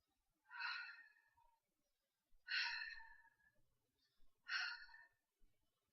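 Three breathy, sigh-like puffs made by a person imitating breathing against their fingers, each lasting about a second, spaced evenly and heard up close with no talk around them.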